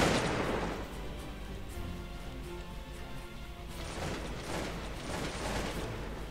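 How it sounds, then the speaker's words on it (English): Musket gunfire in the video game Cossacks 2: Battle for Europe, a heavy rumbling barrage of overlapping shots that opens loud, then continues as a dense, steady crackle with no pauses. "Oh, they're shooting me though."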